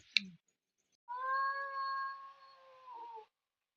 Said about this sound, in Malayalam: ഇവിടുന്ന് ഒരു കാട്ടുമാക്കാൻ വന്നിട്ടുണ്ട് ഇതാ അതാ അതിനോടെ നമ്മളെ ഈ പൂച്ച മുരളുന്നതാ